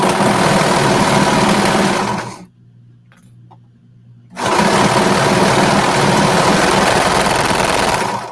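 Sewing machine running a lightning stretch stitch on a bralette, a loud steady motor whir for about two seconds, a brief pause, then a second long continuous burst of stitching.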